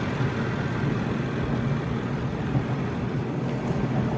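A Porsche Cayenne Turbo engine idles steadily, a continuous low rumble with no voices over it.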